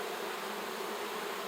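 A strong honey bee hive gives off a steady, dense buzz that holds evenly throughout, close and continuous with no voices over it.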